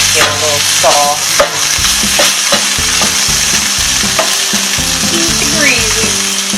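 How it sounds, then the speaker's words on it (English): Vegetables sautéing in a pan for a spinach and ham quiche, a steady close sizzle broken by repeated scraping and stirring strokes of a utensil against the pan, with a few brief clinks. "Just saute this down until the vegetables get a little soft."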